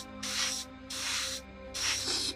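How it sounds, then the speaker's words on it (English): An airbrush sprays Vallejo Model Air steel mixed with black, about two parts steel to one part black, onto Necron miniatures from a 45-degree angle. Three close, hissing bursts of spray are separated by short pauses over a faint background hum. "spraying the mix of Voleo modular steel with black again, but now with about 2 parts steel and 1 part black"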